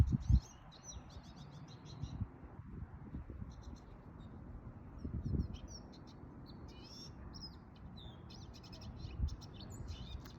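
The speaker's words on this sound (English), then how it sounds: "the beautiful sounds of the birds in this habitat." Birds chirp and tweet at a distance, short bursts of song scattered over a soft outdoor hum.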